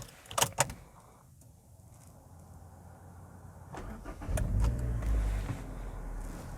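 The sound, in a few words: Hyundai i30 car being started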